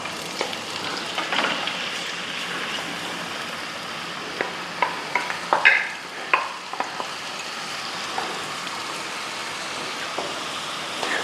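Chopped ginger, garlic and onion sizzle steadily in a hot pan, a soft, continuous frying hiss with occasional sharper pops and stirring clicks, no talking.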